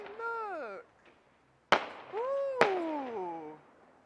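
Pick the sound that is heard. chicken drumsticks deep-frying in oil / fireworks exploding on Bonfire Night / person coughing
fireworks exploding on Bonfire Night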